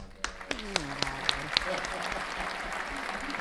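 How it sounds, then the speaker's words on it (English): Canned audience applause sound effect played during a live broadcast, a steady wash of clapping that rises after a few sharp tones and continues evenly at moderate volume. "We're going to have the fake audience applause for you."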